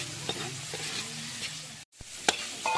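Pancit noodles being stirred and tossed with soy sauce in a hot pan, soft scraping and sizzling in short strokes with a brief pause, close and fairly quiet.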